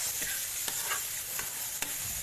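Onion, tomato and pork sauté in hot oil in a pan with a continuous sizzle, while a utensil stirs and taps against the pan in a few distinct clicks, close and without talk.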